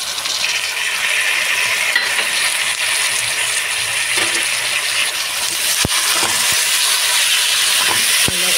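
Onions and tomatoes fry in a pan for chicken biryani, giving a steady loud hiss and sizzle with a few sharp clinks of a utensil against the pan near the end.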